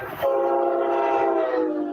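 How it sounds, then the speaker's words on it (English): A Brightline high-speed train on test runs along a Florida beach line sounds a loud, sustained chord horn close by, holding steady for nearly two seconds after a brief rumble. "Trains will be tested along the beach line at speeds of up to 125 miles an hour."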